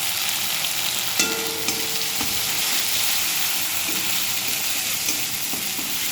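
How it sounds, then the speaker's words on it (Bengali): Ginger garlic paste frying in a pan, a steady sizzle with occasional stirring scrapes and small pops, close and continuous with no talking. "আদা রসুনের গন্ধটা যতক্ষণ না কাটছে তো ততক্ষণ একটু ভালো করে আদা রসুনটাকে ভেজে নিতে হবে"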